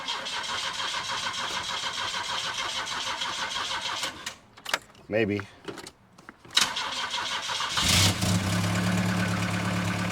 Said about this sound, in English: let's start this up and see what it sounds like now.